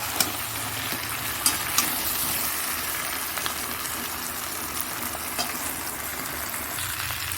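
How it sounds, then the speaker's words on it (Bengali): Water goes into a pan of fried masala and sets off a loud, close, continuous sizzle and bubbling, with a few faint clicks of a stirring spoon. "জলটা দিয়ে দিচ্ছি"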